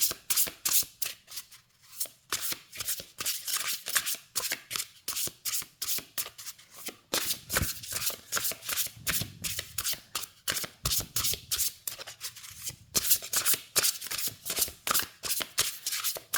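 Playing cards are shuffled repeatedly in quick riffling bursts, a close, crisp flutter of cards with short breaks between shuffles and a little handling noise, with no talking.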